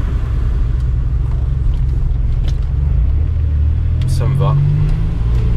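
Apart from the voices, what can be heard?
Maserati Biturbo barn-find car engine driving on road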